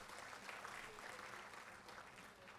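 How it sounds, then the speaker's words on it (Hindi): Steady crowd applause for Imran Pratapgarhi at a Congress party gathering in Jaipur, a continuous dense wash of clapping with no break across the whole stretch, moderately distant and even in level. "एक बार इमरान भाई के लिए जोरदार ताली"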